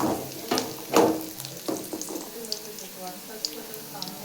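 Chopped onion and green chillies fry in hot oil with curry leaves for a home-style mutton fry, a steady sizzle broken by a few louder stirring clatters near the start before settling into a softer crackle.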